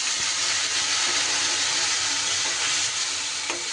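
Vegetables sizzle and crackle in hot oil in a pan while cooking a kakrol (spiny gourd) curry, a loud continuous hiss with faint stirring clinks and a brief sharper spatter near the end.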